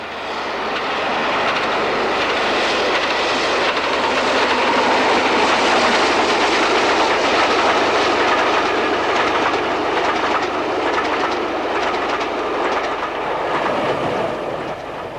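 A steam train runs on the Market Harborough to Peterborough line, a loud, steady, close rush and rumble with rhythmic clatter that holds for the whole stretch, no voices present.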